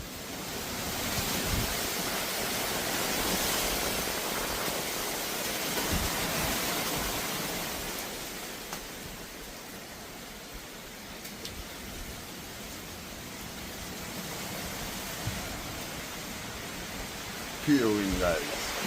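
Hurricane Melissa's wind roars through Jamaica as a continuous, loud, broadband rush that swells and eases slightly, with faint voices and small knocks near the end.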